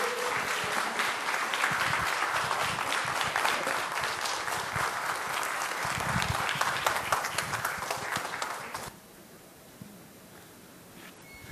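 A lecture audience in Yeosu gives loud, sustained applause to welcome a university professor, dense clapping lasting about nine seconds before cutting off into quieter room tone.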